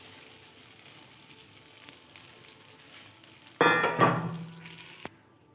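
Rice tipped into a pan of hot oil with browned cashews and raw ginger for basanti pulao, bursting into a loud, close sizzle that swells and then fades before cutting off abruptly, over a low kitchen hiss.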